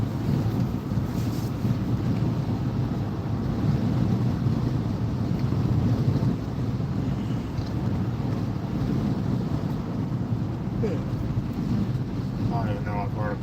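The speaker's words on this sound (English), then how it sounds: "It's got a little windy here." Strong gusty wind after post-tropical storm Ophelia buffets the microphone in a steady broadband roar, loud and continuous with no break, with faint higher chirps near the end.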